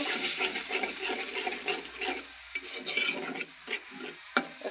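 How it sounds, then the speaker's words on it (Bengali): Spices with turmeric, chilli powder, salt and a little water being stirred in a pan for a light fish curry, a steady scraping, rasping stir with brief louder strokes, close and alone. "দিয়ে সবগুলো নাড়া দেবো"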